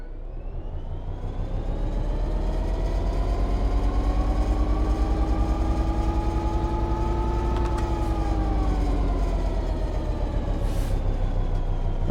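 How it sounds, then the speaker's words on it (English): A locomotive engine in Train Sim World 3 powers up under throttle, a loud steady diesel drone with rising and falling harmonic tones, continuous and close. "Apply some throttle to get the train moving."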